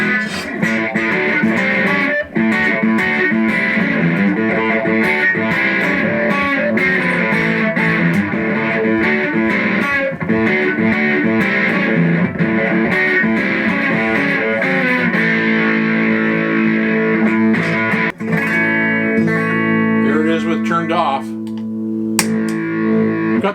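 Electric guitar runs through a digital amp with the gain raised and an Electro-Harmonix Hum Debugger in the chain, playing a continuous distorted, sustained riff with choppy strummed chords and ringing notes for over twenty seconds, louder and denser near the close.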